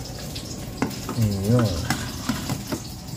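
Fish simmering in a covered pan, a steady low sizzle and bubbling with a few soft clinks and a brief tonal whine, moderately close.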